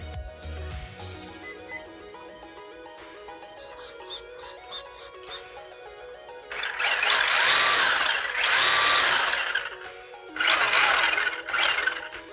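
A Super Avante RC truck with four-wheel drive propeller shaft and ball diff whines up as the electric motor and drivetrain run, starting with faint mechanical tones, then loud high-pitched revving bursts in the second half.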